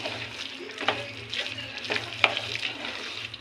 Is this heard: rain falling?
no